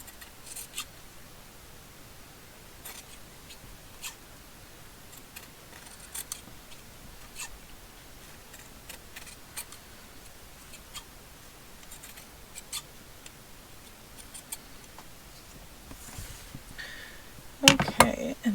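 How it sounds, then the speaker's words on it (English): Scissors snip through fabric in a run of quiet, irregular cuts close by, each a brief crisp click against a low background, ending in a louder rustle of handling. "Get my better scissors there."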